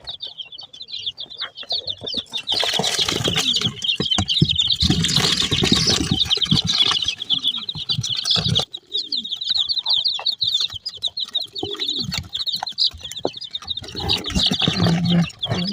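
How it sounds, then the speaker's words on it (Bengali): Dense chirping and peeping from quail chicks and chicken chicks fills the whole stretch, with occasional soft clucks and fluttering, close by and fairly loud, no talking. "এই যে এখানে আছে আমার কোয়েল পাখিগুলো আর মুরগির বাচ্চাগুলো"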